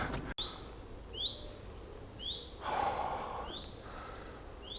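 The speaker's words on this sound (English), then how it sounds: "Just one bird." A lone bird sings in a quiet forest in the morning, giving short, high rising chirps that repeat every second or so over a soft breeze, fairly distant and faint. Breathing or rustling sounds come through near the middle.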